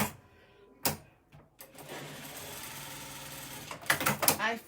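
A Bernina sewing machine runs in a quiet room stitching fabric pieces, a couple of short clunks then a steady mechanical hum, ending in several quick bursts of stitching.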